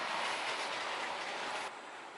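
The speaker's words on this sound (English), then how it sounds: "Coming this way is the other J27 that's got this freight" A model J27 locomotive hauls a short train of about fifteen freight wagons along a layout, producing a steady, close rolling rumble and hiss of wheels on track that eases slightly as it passes.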